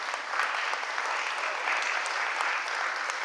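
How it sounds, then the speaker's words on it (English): A seated audience at an annual business district meeting gives a round of applause, dense steady clapping from many hands filling the room evenly, with no voices standing out. "let's give ourselves a nice round of applause"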